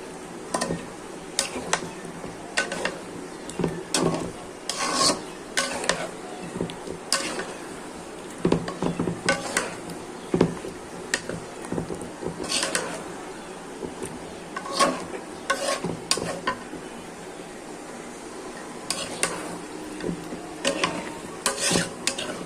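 Meat is sautéed with spices in a pan, giving a low steady sizzle under frequent scraping and clattering stir strokes, repeated irregularly and close at hand throughout.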